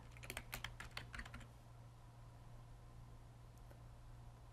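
Rapid keyboard typing, a quick burst of key clicks in the first second and a half, then near silence with a couple of isolated taps over a low hum.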